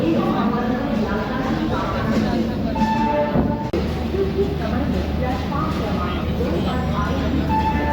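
The Pune–Amravati Express pulls out of Bhusawal Junction with a low rumble of rolling wheels and engine under a busy mix of voices, close by and steady, with a sharp clunk partway through.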